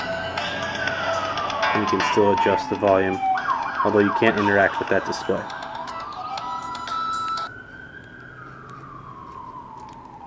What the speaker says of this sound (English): Pardon the sirens in the background,